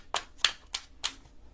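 Tarot cards being shuffled by hand: four short, crisp bursts of card riffling at a steady rhythm, close and fairly quiet, with no talking.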